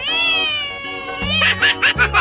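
A cat meows in a 3D animal slide video game, one drawn-out cry that starts loud and bends downward, followed by several short bursts of noisy game sound.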